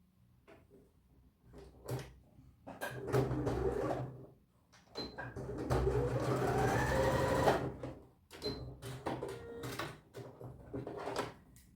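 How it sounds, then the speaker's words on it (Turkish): A sewing machine stitches a tunic in bursts of rapid mechanical whirring, with several stops and starts and short pauses between runs, close and fairly quiet, no speech. "Hemen biraz daha dikiyorum."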